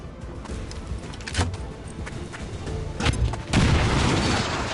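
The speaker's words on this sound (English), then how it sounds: "Throwing grenade" A grenade blast in XCOM 2 gameplay, with a sharp boom near the middle, a second louder burst toward the end and lingering rumble, over a low game background.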